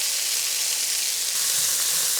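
Red chili hits hot oil in a tadka for moong dal, giving a loud, steady, close sizzle that crackles evenly for a couple of seconds with no voices.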